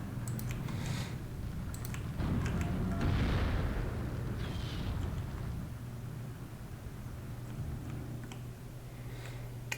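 Distant gunfire and artillery in a WW2 real-time strategy game as units fire on a ZiS-3 field gun and a flak emplacement: scattered sharp cracks and muffled booms over a low rumbling battlefield hum, fairly faint throughout.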